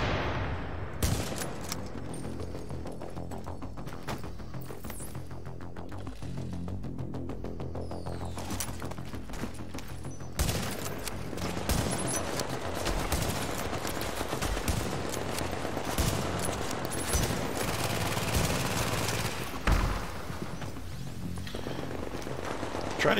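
Sustained automatic gunfire from the shooter game The Division, loud bursts and rapid rattling volleys that run almost without pause, with sharp louder shots punctuating the stream and no talking.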